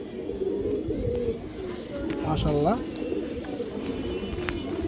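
Pigeons coo in a loft, including a black female pigeon among a mixed flock, with rising, warbling coos over a steady bed of bird noise while someone speaks throughout.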